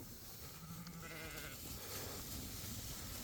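A single sheep lets out a faint, wavering bleat during a flock move on a farm, heard over steady wind and outdoor noise, with no talk.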